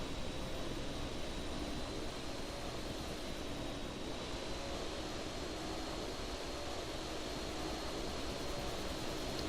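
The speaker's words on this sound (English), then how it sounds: "When we're getting close enough, you can hear the engines from them." Nearby airliner engines, a 737 and 747 in Flight Simulator X, producing a steady, faint broadband jet roar that holds unchanged throughout with no talk.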